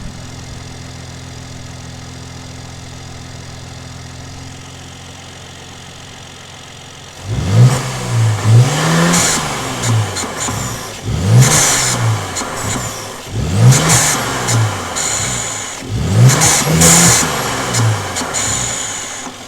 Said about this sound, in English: let me show you guys what the intakes sound like